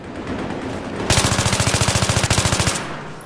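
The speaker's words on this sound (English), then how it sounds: "Oh, they're shooting at me, too." Gunfire in Battlefield 3 during online play, a close rapid automatic burst of about twenty shots lasting under two seconds over steady background game noise, no talk.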